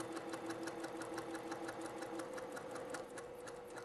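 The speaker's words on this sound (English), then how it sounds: "And we're gonna sew here." Sewing machine stitching a quilt strip-set seam, a rapid, even run of needle clicks over a low motor hum, continuous and close, fairly quiet throughout.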